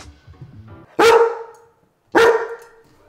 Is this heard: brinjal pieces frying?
no